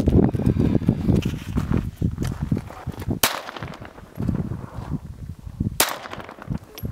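Two sharp, loud rifle reports ring out a few seconds apart during a tactical rifle and sniper shooting challenge at long range, with scuffling and low background noise between the shots.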